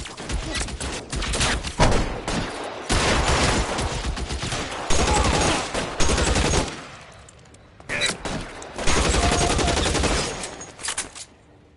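Heavy gunfire in L.A. Noire, a 1940s Los Angeles police game, comes in long loud volleys with a brief lull before another sustained burst; no voices are heard over the shots.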